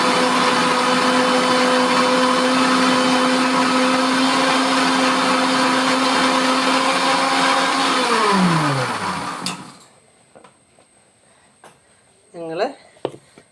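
A kitchen mixer grinder runs loud and steady for about eight seconds, its whine dropping as the motor winds down and stops, followed by quiet room sounds and a brief squeak.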